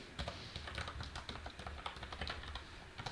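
Steady, fast typing on a computer keyboard while coding a TypeScript React project, with dense close-up key clicks running continuously under a low background hum.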